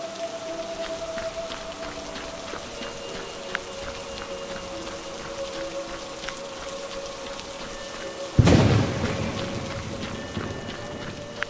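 Steady rain pattering on a surface at a moderate, even level, growing heavier and louder partway through with a sudden burst of denser downpour, with no voices.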